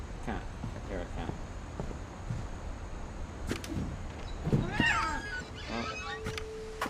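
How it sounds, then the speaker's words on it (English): A cat meows in the video game What Remains of Edith Finch: a short, mid-loud meow over quiet game ambience, with a voice talking over parts of it. "I hear a cat."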